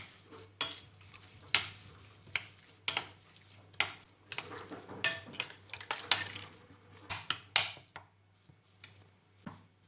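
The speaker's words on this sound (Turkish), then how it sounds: "1 tatlı kaşığı pul biber, 1 çay kaşığı kimyon, 1 çay kaşığı kekik ve bir miktar tuz ilave edip karıştırıyoruz." Red pepper flakes, cumin, thyme and salt being stirred into a mixture for pepper bread, a series of sharp spoon-against-bowl clinks and scrapes in an irregular rhythm, close and clear.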